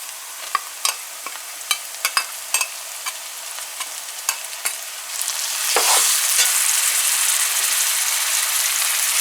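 Onions frying in a pan, heard first as a series of sharp clicks and scrapes from stirring, then a louder steady sizzle that swells and carries on to the end, close up with no talking.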